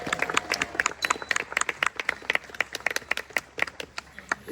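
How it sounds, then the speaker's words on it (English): Outdoors at a sled dog kennel, a small crowd applauds the dogs and kennel staff with steady, dense clapping that stays moderately loud and continuous throughout. "A round of applause for the dogs and the kennel staff."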